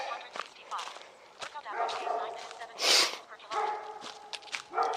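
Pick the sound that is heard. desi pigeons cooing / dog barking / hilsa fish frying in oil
dog barking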